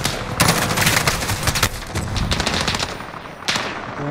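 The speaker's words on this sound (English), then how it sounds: "that's an MG nest, I swear" A machine gun nest fires in the Modern Warfare video game campaign, loud rapid bursts of automatic gunfire crackling close by with a few heavier shots standing out, no voices.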